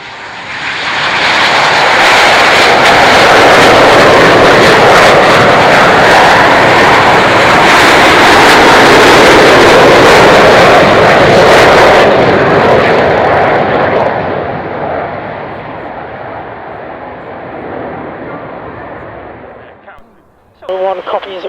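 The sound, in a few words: Avro Vulcan jet bomber taking off for display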